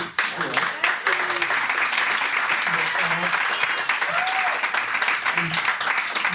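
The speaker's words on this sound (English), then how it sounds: "I appreciate the applause" An audience applauds at a talk on mindfulness and healing, a dense, steady wash of clapping with occasional voices and calls rising through it.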